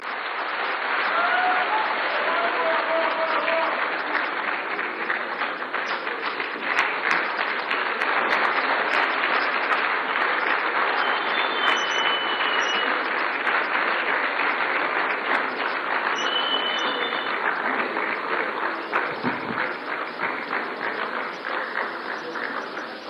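A large audience applauds after a political speech in Ghana, with dense, sustained clapping that stays loud and steady for over twenty seconds, a few cheers or voices rising within the crowd.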